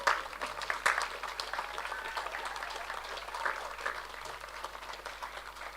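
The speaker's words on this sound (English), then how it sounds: "give them a clap for helping you get here" A graduation audience at a Faculty of Medicine & Health summer ceremony stands and claps for those who helped them. The applause is fairly quiet and distant, a steady crowd patter with a few sharper claps near the start.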